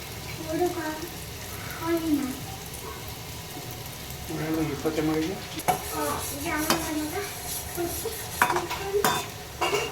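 Jamun balls frying in well-heated oil, a continuous bubbling sizzle with occasional clinks of a utensil, while someone talks over it.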